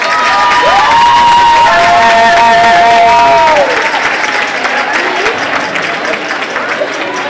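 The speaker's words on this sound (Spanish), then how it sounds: "Un fuerte aplauso para ella." Loud, close applause and cheering from a festival crowd at a gathering of Águedas in Torrecilla de la Orden, with shouts and whistles over dense clapping that tapers off slightly toward the end.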